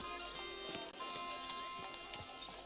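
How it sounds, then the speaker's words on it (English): Horse hooves clip-clop steadily at a distance in a busy medieval town in the video game Kingdom Come: Deliverance 2, under a bustling background with faint voices and a thin tonal hum. "Watch out with that horse."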